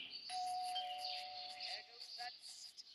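A doorbell in the video game Scary Teacher rings with a clear, sustained electronic chime that holds for over a second and then fades, followed by quieter game noises.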